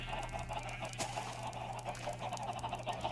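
Chickens in the Minecraft video game cluck and squawk in quick, steady bursts, a small flock heard close and alone with no talk.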